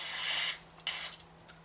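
Aerosol cleaner hisses in two short bursts into a Mercury 9.9 outboard boat carburetor, a steady spray near the nozzle followed by a brief second spray and a few small clicks, with no talking.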